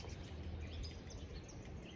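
Faint birdsong at sunrise beside a body of water, with soft scattered chirps and tweets over low, steady ambient rumble, heard at a distance with no voices.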